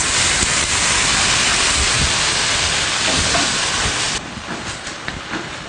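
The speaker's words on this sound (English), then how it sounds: "we're going to saute this until the oil leaves the sides" Half a can of tomato sauce sizzles in oil in a pan, a loud, dense, continuous frying hiss that drops to a quieter crackle near the end.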